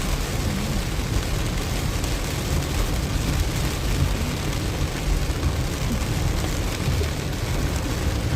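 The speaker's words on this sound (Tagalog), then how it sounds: "Ulan na, mga kaibigan." Steady rain falls outdoors in Batangas, a continuous broadband hiss with constant texture and no breaks, fairly loud and even throughout.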